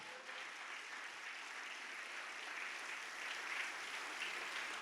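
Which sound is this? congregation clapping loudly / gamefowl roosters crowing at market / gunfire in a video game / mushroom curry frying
congregation clapping loudly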